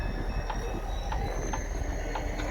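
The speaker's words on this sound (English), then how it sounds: "Oh, we got another train here." A train rolls past a railroad crossing during a winter drive from Wisconsin into Minnesota, with steady rumbling wheels and repeated metallic clicks and squeals close by, heard alone without talk.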